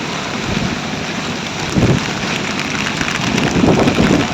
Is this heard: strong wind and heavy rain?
yes